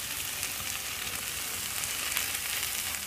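Tuna and potato samosa filling cooks in a pan with a steady, close sizzle and frying crackle that runs unbroken for a few seconds, with no voices.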